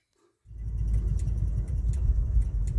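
Car fitted with drag radials and headers pulling away: after a brief silence, a loud, deep engine rumble starts suddenly and holds steady close by.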